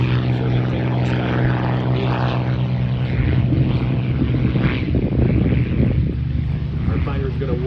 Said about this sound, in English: The takeoff roll now, the British Supermarine Spitfire Mark 9, and finally the Messerschmitt